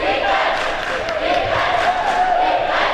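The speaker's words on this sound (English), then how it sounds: "The student section is into it tonight for sure." Dense, roaring crowd noise from a high school basketball student section cheering and chanting loudly throughout a game in a gym.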